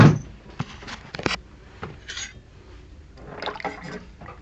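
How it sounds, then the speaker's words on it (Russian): Soup being ladled and poured into a bowl, with splashes, light clinks and drips up close, no one speaking. "сейчас я тебе суп налью"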